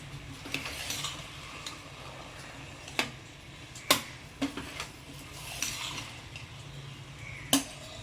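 Spoon scraping and clinking in a pot while rice, paneer and masala are gently mixed together for paneer biryani, with a few sharp metallic taps over a soft, quiet stirring background.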